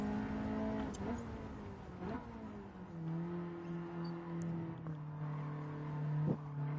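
Race car engine in Gran Turismo 7 with a 4-speed transmission, droning steadily with rising and falling pitch as it shifts through gears, held loud and continuous throughout.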